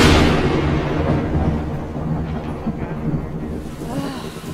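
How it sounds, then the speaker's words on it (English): Thunder and a lightning strike in a horror video game, a loud crack that rolls off into a long, deep rumble and fades over several seconds. "it was the lightning strike that got us and the thunder and all that"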